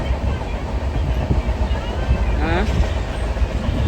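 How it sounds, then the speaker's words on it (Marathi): A passenger train bound for Delhi rolls along with a continuous low rumble and rattle of carriages. Chatter and a brief spoken word sit over the steady rail noise. "ट्रेन चालू झाली दमानी चालायची"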